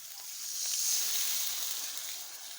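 Onion and garlic frying in a pan give a steady, soft sizzling hiss that swells slightly and then eases, heard alone without talk.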